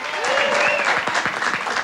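Steady, loud clapping from a television comedy show's studio audience, continuous throughout with a voice rising over the crowd noise.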